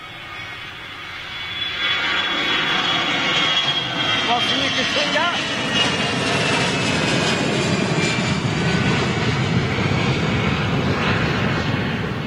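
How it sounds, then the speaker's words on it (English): A jet airliner roars past close by at Manchester, a broad rushing, buffeting rumble from its undercarriage that swells and holds loud, with someone speaking briefly over it. "You can really hear the noise that comes off of the buffeting noise that comes off of the undercarriage."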